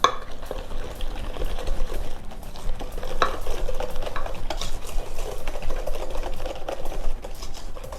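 Egg whisked with vanilla and lemon zest in a bowl for sweet pastry dough, a rapid continuous clicking and scraping of the whisk that stays fairly loud and close throughout, with no talking.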